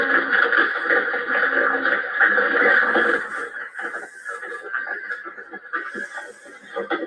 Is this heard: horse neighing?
yes